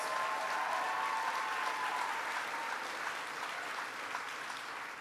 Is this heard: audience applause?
yes